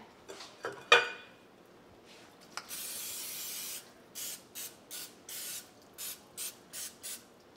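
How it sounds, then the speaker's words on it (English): Cooking spray hisses onto a muffin pan in a long burst followed by a series of short, even spritzes, with a few light clinks of the pan beforehand, close and fairly quiet. "spray our muffin pan with this cooking spray"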